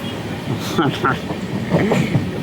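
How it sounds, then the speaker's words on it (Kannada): Train rolling on rails as it departs, carrying a low steady rumble with faint wheel clatter, heard from a window seat inside a passenger carriage while voices murmur nearby. "ಈಗ ನಮ್ಮ ಟ್ರೈನ್ ಹೊರಟಿದೆ"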